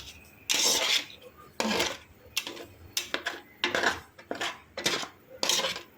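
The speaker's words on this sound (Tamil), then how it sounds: "இந்த அடுப்பில் வச்சு அதை கிளறிக்கிட்டே இருக்கணும்" Tomato thokku stirred in a pan on the stove, with repeated loud metallic scrapes and clanks of a spoon against the pan in an uneven rhythm, close up, with no one talking.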